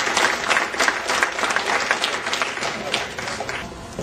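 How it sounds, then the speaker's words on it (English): Applause from an audience at an Iron Man event awards gathering, a steady dense round of clapping lasting the whole stretch, with faint voices mixed in. "and then Colonel Hoskins and Colonel Oakman, let's give them a round of applause for their support."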